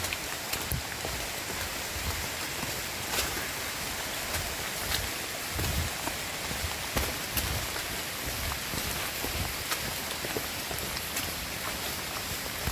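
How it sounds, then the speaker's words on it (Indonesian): Steady, heavy rain pours down without a break on a mountain trail at Puncak Mangu, a dense hiss with occasional louder drops spattering on nearby surfaces. "karena hujannya pasti tidak akan berhenti"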